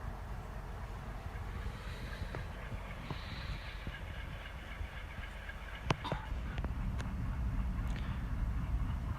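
The Hazara Express passenger train rumbles steadily with low continuous noise, a few sharp metallic clanks and squeals rising near the end as it rolls along.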